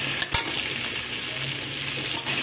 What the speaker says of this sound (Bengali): সমস্ত সবজিকে একটু ভালো করে নাড়াচাড়া করে ভাজা ভাজা করে নেব